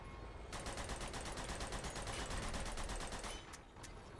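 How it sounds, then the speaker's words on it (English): Sustained rapid gunfire in Uncharted 2 hammers at the teeth of a wheel, a fast even burst of close, loud shots running about three seconds before stopping, followed by a couple of isolated shots. "Just keep shooting."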